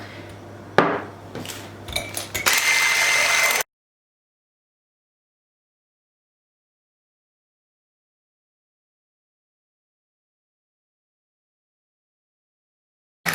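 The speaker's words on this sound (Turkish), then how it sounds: "yumurtayı hem bir taraftan çırpacağım, bir taraftan da şekeri katıp iyice köpüreceğim" Eggs and sugar being whisked in a bowl for an apple cake give a few seconds of close, busy metallic clatter and rattling, then cut off abruptly into silence.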